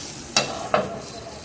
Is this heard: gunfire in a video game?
no